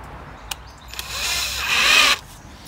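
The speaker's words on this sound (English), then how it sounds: "I will screw these together to make a nice frame" A power drill drives screws into timber pieces being joined into a frame, with a few short clicks before a close, rising whirr that bites into the wood and stops abruptly.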